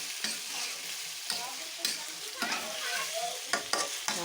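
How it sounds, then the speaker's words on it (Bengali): Pointed gourd curry with koi and shing fish being stirred in a pan, with steady sizzling and repeated scraping strokes of a spoon against the pan. The sound is close and alone, with no talking. "নাড়াচাড়া করে আবার ঢাকনা দিয়ে দিব।"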